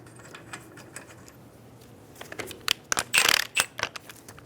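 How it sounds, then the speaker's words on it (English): Lug nuts being threaded by hand onto a wheel stud during rear brake hose replacement on a 2011-2014 Hyundai Sonata: quiet metallic clicks and scrapes, then a denser cluster of close, crisp rattling clicks toward the end, with no talk. "Get the lug nuts started."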